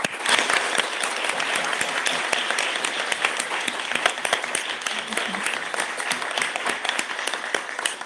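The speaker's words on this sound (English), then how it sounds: "please join me in a round of applause to congratulate our 10 exceptional graduates" Sustained applause from a graduation audience congratulating ten university graduates, a dense steady clapping that runs throughout with no break.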